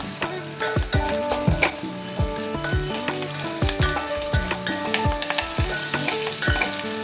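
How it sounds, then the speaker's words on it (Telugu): A temple-style katte pongali mixture with a pinch of turmeric is stirred in a frying pan. Repeated loud, rhythmic scraping strokes run over a constant sizzle. "ఇప్పుడు ఈ టైంలో పసుపు వేద్దామండి, చిటికెడు. మళ్ళీ కలుపుకుందాం."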